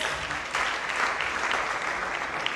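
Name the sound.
congregation clapping hands for Jesus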